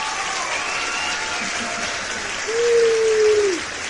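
Steady applause cheering a podcast guest, close and fairly loud throughout, with a single voice letting out a sustained rising whoop near the end.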